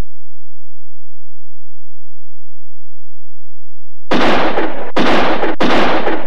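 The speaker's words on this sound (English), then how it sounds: "Take a shot at this bottle." Three loud, sharp gunshots fire in quick succession in a Philips CD-i shooting game where the player aims at bottles, following a few seconds of near silence.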